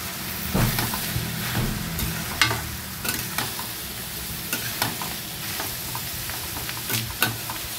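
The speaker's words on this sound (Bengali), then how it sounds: "এখন আমি লাউটাকে একটু ভালো করে মিশিয়ে নিব তেলের" Bottle gourd being mixed into hot oil with tempering spices, with repeated spatula scrapes and taps against the pan at an uneven rhythm over a steady close-up sizzle.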